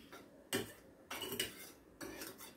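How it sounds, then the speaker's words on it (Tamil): A spoon stirs mango sago pudding in a pan on the stove, clinking and scraping against the metal in a few short bursts, close and clear with no voices. "அடுப்பில் வச்சு கொஞ்சம் கெட்டியாகிற வரையிலும் கிளறி விட்டுக்கிட்டே இருக்கணும்"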